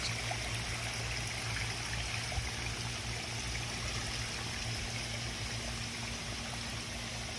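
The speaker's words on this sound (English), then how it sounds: "which is usually just about the right amount of water to fill the pond back up" Water from a backyard sprinkler system streams and splashes into a koi pond as it refills, a constant close rushing trickle that never lets up.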